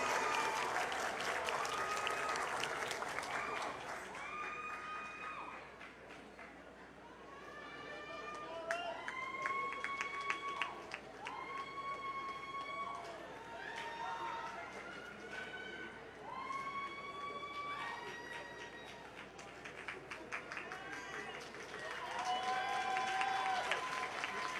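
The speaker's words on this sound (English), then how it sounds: "Give them a round of applause." Audience applause at a university graduation ceremony for a Faculty of Social Sciences, sustained steady clapping from a large crowd with cheering and whistles rising over it, and a voice speaking briefly amid the noise.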